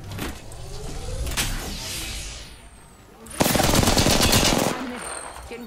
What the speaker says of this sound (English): Getting shot at. Putting lead down range.